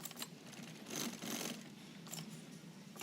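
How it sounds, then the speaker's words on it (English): An industrial sewing machine runs a seam through folded nylon webbing with back tacks, its quiet, fairly steady mechanical whir rising in a louder burst partway through, with no talking. "You fold the nylon in half and sew a 1/2 inch seam with back tacks."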